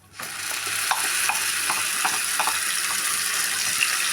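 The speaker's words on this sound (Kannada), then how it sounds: "ಎಣ್ಣೆ ಕಾಯ್ದ ನಂತರ ನಾನು ಆವಾಗಲೇ ಮಸಾಲ ರುಬ್ಕೊಂಬಂದಿದ್ನಲ್ಲ ಅದು ಮಸಾಲ ಹಾಕ್ಬಿಟ್ಟು ಸ್ವಲ್ಪ ಎಣ್ಣೆಯಲ್ಲಿ" Ground masala paste frying in a little hot oil in a home kitchen, a steady close sizzle with several soft stirring scrapes spread through it.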